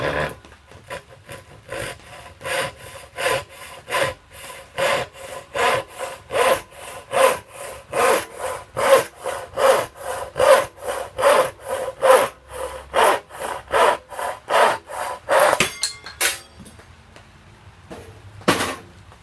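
A freshly sharpened hand saw cuts a small piece of mahogany, taking a quarter inch off, in a steady run of about thirty loud rasping strokes that quicken slightly before stopping near the end.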